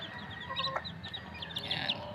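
Small labuyo hen crossbred with Texas chicken, about one kilo, with eleven chicks; soft repeated clucks and chirps close by over a steady farmyard background, no talk.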